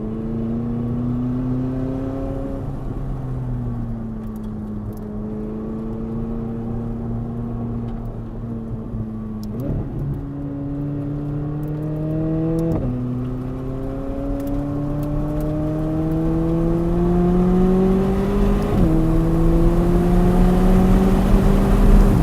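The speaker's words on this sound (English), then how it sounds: "The acceleration out of the turns is amazing." A sports car with carbon-ceramic brakes accelerates hard out of turns on a track. Its loud engine note climbs steadily, with sharp breaks at several gear changes, and keeps rising toward the end with no talk.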